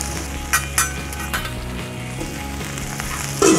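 Smash burgers fry in oil on a Cuisinart 360 griddle cooking center, giving a steady close sizzle with a few sharp clinks and scrapes of a metal spatula, and no talking.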